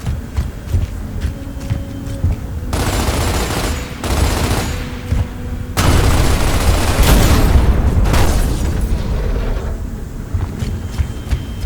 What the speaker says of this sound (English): Nothing says fun like blowing up a few propane tanks